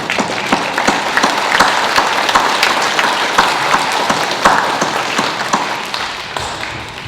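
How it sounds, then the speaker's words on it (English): Graduates at the KKETS graduation ceremony clap for themselves, a loud, fairly sparse applause where individual claps stand out as sharp distinct slaps, gradually thinning toward the end. "give yourselves a good round of applause"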